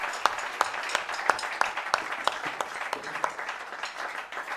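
A church congregation applauds in a rhythmic, evenly spaced clapping pattern with sharp accented beats over a crowd wash, moderately close, steady for several seconds and fading slightly at the end.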